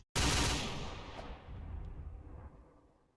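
A machine gun fires in the Roblox game Brookhaven on a custom Dien Bien Phu roleplay map, one loud sustained burst that cuts in sharply and then decays into a rumbling tail.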